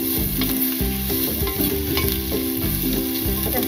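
Garlic and onion fry steadily in a pan for a Filipino laing dish, a loud continuous sizzle with stirring beneath background music.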